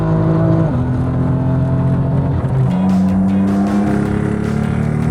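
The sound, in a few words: BMW M2 car racing, engine and tires squealing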